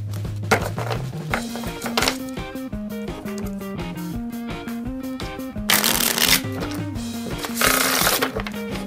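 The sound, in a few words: bridge shuffling playing cards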